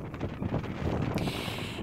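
Wind buffeting a microphone outdoors in an alpaca field, a low, rumbling roar of gusts that swells and fades over a couple of seconds.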